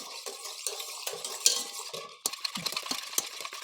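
Coza mixture thickened with cornstarch being stirred in a bowl, a utensil scraping and clinking steadily against the sides in short repeated strokes, close and fairly quiet with no talk.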